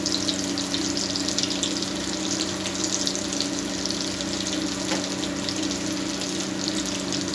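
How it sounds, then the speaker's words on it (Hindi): Potato cutlets shallow-frying in a pan, giving a dense, continuous hiss of sizzling oil that holds even and loud throughout, with no voices. "इसी तरह इनको भी हम थोड़ी देर के लिए नीचे से फ्राई कर लेंगे"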